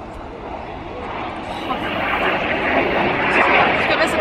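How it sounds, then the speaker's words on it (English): Red Arrows jets fly the corkscrew manoeuvre at a 2014 display, with two jets rolling upside down. A loud, continuous jet roar fills the air and swells steadily as the aircraft pass. "Red 6 and 7 now roll upside down. This is the corkscrew."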